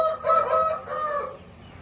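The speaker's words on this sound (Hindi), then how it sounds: "ये एक मुर्गा दो मुर्गियाँ, ये भी वाइट शामू बेल्जियम ब्रीड है" A White Shamo rooster of Belgian breed crows with hens nearby, giving one loud, harsh, drawn-out call up close that fades toward the end.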